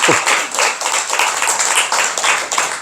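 Congregation clapping at a Buddhist dharma talk in a temple hall, a brisk, even run of many hands that stays loud and steady throughout.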